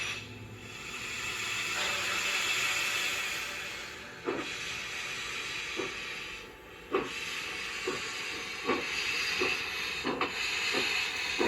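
An LGB Mogul model steam locomotive, model 21181, fitted with an ESU 5L sound decoder, runs forward with a steady steam hiss and rhythmic chuffs, punctuated by several sharp mechanical clicks and bursts at irregular intervals.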